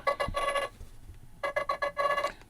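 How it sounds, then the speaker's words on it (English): A Nothing Phone 3 plays its incoming-call ringtone: two short bursts of bright, melodic electronic tones separated by a brief pause, moderately quiet and with no voices. "When you're getting a phone call, okay, this is another one."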